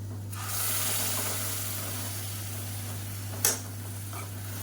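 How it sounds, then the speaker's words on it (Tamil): Tomato coconut paste sautés in a pan over a medium flame, giving a steady soft sizzle under a low hum. A single sharp clink of a utensil cuts through near the end, with no talk. "அந்த தக்காளி தேங்காய் பேஸ்ட் வந்து சேர்த்துக்கலாம் சேர்த்துட்டு நல்லா வதக்கி விட்டுக்கலாம்"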